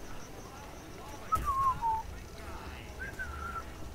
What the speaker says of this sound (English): Whistling, whistling. Covers up everything.